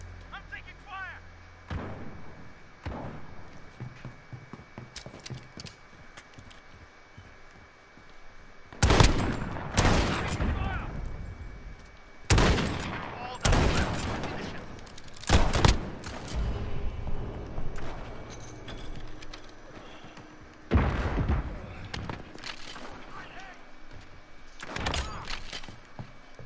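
Gunfire in Call of Duty Modern Warfare 2 during a two-versus-two Alpha shotgun match: sharp, loud shots come in irregular bursts, some quickly doubled or tripled, with brief voices in between.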